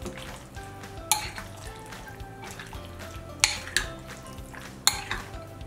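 Raw chicken for Japanese karaage is mixed with seasoning by hand, giving wet squelching and stirring sounds, with three sharp clacks against the bowl and no speech.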